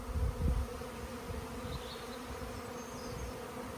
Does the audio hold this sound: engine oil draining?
no